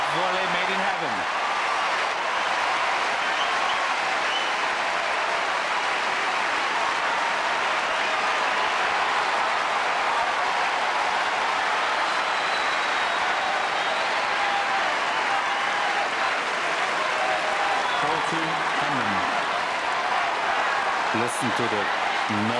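A Wimbledon tennis crowd roars and applauds steadily during a tie-break between Henman and Philippoussis, a dense, loud, continuous wall of clapping and cheering that barely varies, with a commentator's voice faintly underneath near the end.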